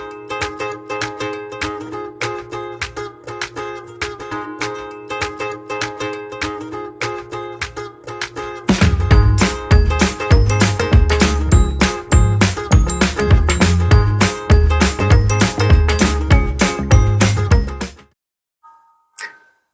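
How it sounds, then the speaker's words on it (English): Noontime church bells ring on a street in Germantown in a rapid, continuous run of strokes that grows fuller and louder partway through, then stops abruptly near the end. "maybe you can hear the soft tones of the noontime church bells also in the background"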